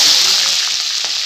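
Chopped onions hit hot oil already cooking with cumin seeds, bursting into a loud, close, hissing sizzle that holds steady through the whole short moment.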